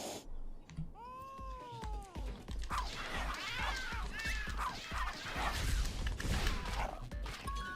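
Video game cat from Tokyo Jungle gives a couple of clear meows and a rising caterwaul, followed by chaotic game fight effects with whacks and crashes, loud and busy throughout.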